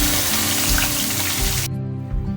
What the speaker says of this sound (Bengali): ওই তেলের মধ্যে দিয়ে দেবো হাফ চামচ পাঁচফোড়ন আর একটা পেঁয়াজ কুচুনো দিয়ে দেবো